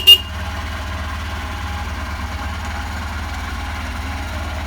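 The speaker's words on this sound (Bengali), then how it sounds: "আমাদের বাইক এখানে কোল্ড স্টার্ট হচ্ছে" A motorbike idles just after a cold start, a steady low engine throb running evenly throughout after a brief sharp sound at the very beginning, with no talking.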